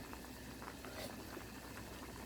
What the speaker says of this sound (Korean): 이건 지금 센 불로 합니다. 지금 다 끓었어요.